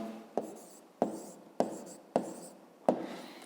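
An answer being written by hand for a fifth-grade maths exercise, five crisp pen strokes landing at a steady rhythm, close and quiet, with no talking.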